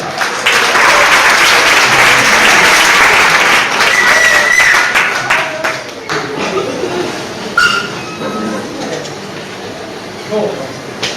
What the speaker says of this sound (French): Applaudissez Pédenol.